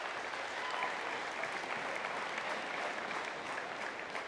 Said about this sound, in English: thank you for the applause, but I don't need it